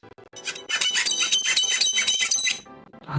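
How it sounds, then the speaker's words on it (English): Plastic pieces from a Gundam MG Advanced Hazel model kit rub together with a shrill, high-pitched squeak that runs continuously for a couple of seconds, close and fairly loud. "That's some squeaky plastic."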